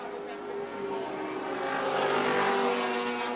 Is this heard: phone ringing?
no